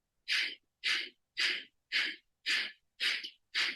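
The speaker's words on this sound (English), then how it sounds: "You're gonna do breath of fire here." Rapid rhythmic breath of fire from Kundalini yoga, sharp forceful nasal exhales in a steady pulse, seven clear bursts about every half second, close and alone with no talk.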